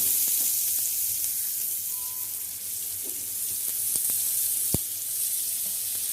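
Unniyappam batter fries in a hot pan, giving a steady, close sizzling hiss with an occasional soft tap or clink over it.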